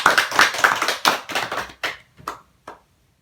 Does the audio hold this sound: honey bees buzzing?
no